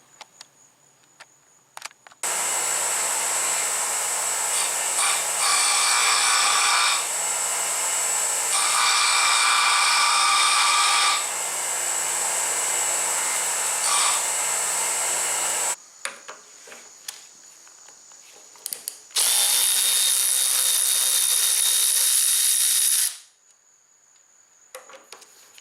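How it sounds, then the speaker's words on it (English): A drill bores a hole in an oil pump part for a 383 stroker engine, giving a steady, high, whining grind that runs for about fourteen seconds, stops, then returns for a shorter second run, close and loud. "I'm going to drill and tap and put a set screw in"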